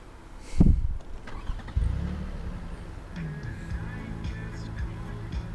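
A car engine cranks and catches in one loud burst, then settles into a low, steady idle rumble that runs to the end, with faint ambient noise around it.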